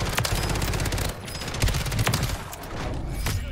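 Rapid SMG bursts in Call of Duty Warzone on Rebirth Island, loud close automatic fire in several quick volleys with a brief pause near the middle, no voices.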